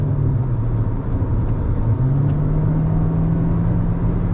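A 2022 Toyota Corolla Cross XLE AWD accelerating to merge, heard from the cabin as a steady, loud engine drone with a slowly rising pitch over constant road rumble, with no talking.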